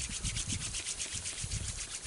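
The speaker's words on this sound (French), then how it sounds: "On frotte les mains." Two hands rubbing briskly together, a rhythmic dry swishing of skin on skin repeated several times close up, with no talking.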